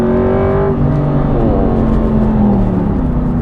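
Aston Martin V8 Vantage CTR engine pulling hard and loud up through the revs, a steady rising drone with faint crackles of overrun near the end, no talk over it.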